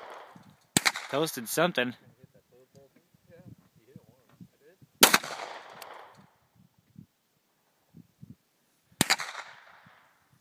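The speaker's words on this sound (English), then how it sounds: "What are you shooting at? Those beer bottles here." Three sharp, loud 9mm Springfield XD pistol shots fired at beer bottles outdoors, spaced several seconds apart, each cracking and then fading out, with people talking in between.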